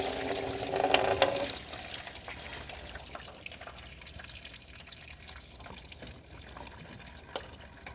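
Coolant trickling and splashing out of a Toyota thermostat housing during a replacement, a louder gush at first easing into a quieter steady dribble with scattered drips, close by and without speech.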